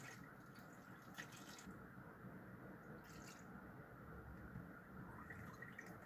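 Antifreeze coolant draining from a hose on a Lexus RX300 into a bucket below, a faint, steady trickle and drip continuing quietly throughout.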